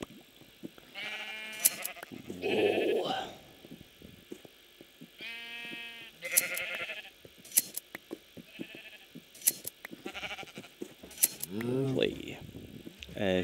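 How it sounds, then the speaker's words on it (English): Minecraft sheep bleating several times in short wavering calls, interspersed with clicking game sounds and someone talking throughout. "Okay, sheep."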